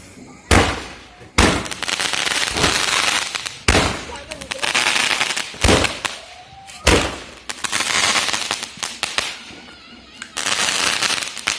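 Firecrackers set off for Dev Uthani Ekadashi, bursting one after another as a string of sharp, loud cracks and bangs with crackling tails between them, under background voices.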